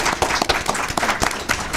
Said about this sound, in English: Let's give Chef Sean a round of applause.